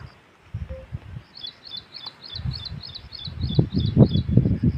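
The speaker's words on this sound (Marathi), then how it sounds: "एका झाडावरती छान पक्षी बसलेला होता तर तो इतका सुंदर आवाजामध्ये चिवचिव करत होता" A small bird repeats a quick, high chirping phrase in a steady rhythm, with soft rustling and low background noise underneath.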